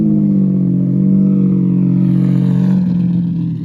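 Lamborghini Diablo restomod engine idling and droning nearby at a car-week gathering, a loud steady low growl held evenly before easing slightly at the end.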